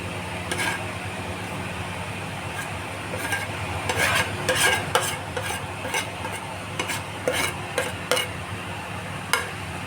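Chopped tandoori chicken pieces are stirred into a sizzling butter chicken mixture in a pan, with steady frying hiss under repeated scraping clacks of a spoon against the pan.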